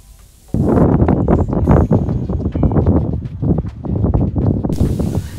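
Strong wind gusts at a fort in Puerto Rico on a warm night roar and buffet the microphone in uneven bursts, loud and close, starting abruptly and cutting off near the end.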